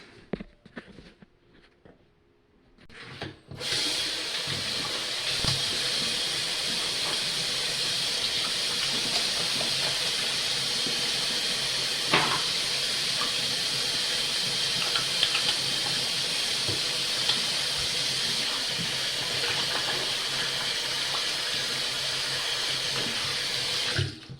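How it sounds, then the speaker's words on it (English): Water runs steadily from a tap while hands are washed beneath it, a continuous close hiss and splash that starts after a few seconds of near silence and holds at an even level throughout. "I'm gonna wash hands now."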